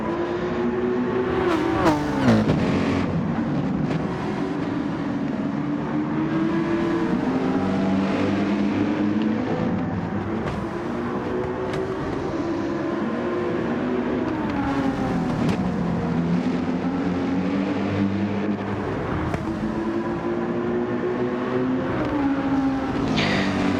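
Race cars in a Group 3 sprint race of a sim racing game, engines droning and revving continuously at close range with rising and falling pitch as the cars shift gears, with no talk over it.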